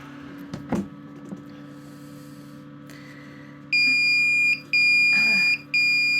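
A high electronic alarm beeps in three long pulses, loud and steady, after a stretch of quiet room hum with a few soft knocks.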